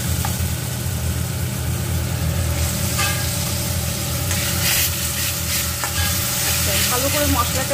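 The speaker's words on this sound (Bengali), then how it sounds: "ভালো করে মশলাটা এখানে কষিয়ে নেব।" Ground spice paste fries and is stirred in a pan in a village kitchen on the bank of the Padma, a loud close sizzle steady throughout with a low constant hum beneath and occasional scraping strokes.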